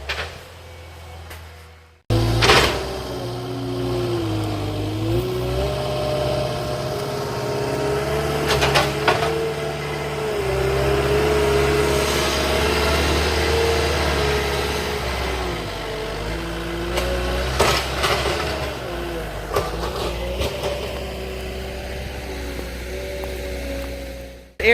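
A skid steer engine runs steadily while clearing woods for a food plot. Its loud, continuous drone rises and falls as the machine works, with occasional clanks and no talking.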